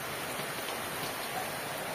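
Steady rain falls in an even, hissing patter, close and continuous, with no voices heard.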